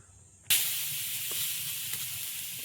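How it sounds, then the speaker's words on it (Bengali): Grated coconut tipped into a hot wok (kadai) bursts into a loud, steady sizzle that starts abruptly and carries on evenly, with faint clinks of stirring, in an outdoor Sundarban village kitchen. "এদিকে কড়াইয়ে এখন দেব নারকেল কোড়া"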